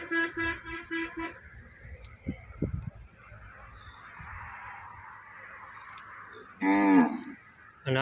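A desi cow that cannot conceive gives two drawn-out moos, one right at the start and another near the end, with quiet thuds and low background sounds filling the gap between.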